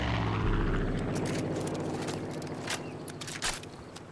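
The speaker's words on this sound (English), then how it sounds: "There's a plane looking for me." A propeller plane in Far Cry 5 drones loudly overhead, its buzzing engine slowly fading as it passes, with a few sharp clicks and thumps toward the end.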